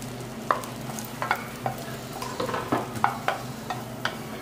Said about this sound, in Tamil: பிரெட்டை டோஸ்ட் பண்ணி எடுத்துக்கலாம். இப்போ இந்த கட் பண்ணி வச்ச பிரெட்டை சேர்த்துக்கலாம்.